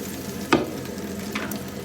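Chopped onion sizzles and crackles steadily in a hot frying pan, with a sharp clatter as the onion drops in near the start.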